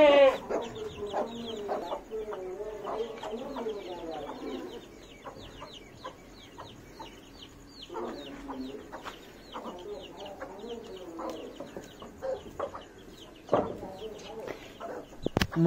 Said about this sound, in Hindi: ਹੁਣ ਆਪਾਂ ਮੁਰਗੀ ਨੂੰ ਵੀ ਛੱਡਦੇ ਆ।